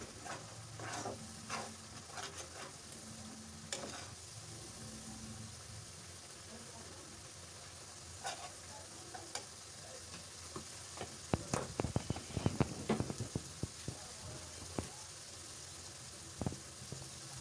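Onions fry with turmeric, chilli and coriander powder in a pan, giving a soft, steady sizzle and hiss, with clattering stirring strokes growing busier toward the end, all quiet and close, with some speech-like sounds faintly present.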